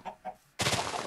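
Minecraft chicken clucking: two short soft clucks, then a sudden loud broadband burst that fills the rest of the moment.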